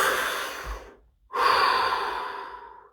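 A deep breath taken during a silent scanning session: a long, airy inhale, a brief pause, then an even longer, fuller exhale, close and alone.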